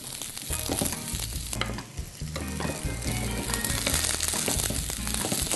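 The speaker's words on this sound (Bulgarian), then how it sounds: "След което слагам вътре червения лук." Red onion sizzles and crackles as it fries in a pan, stirred with scraping and clattering, steady and close with no talk.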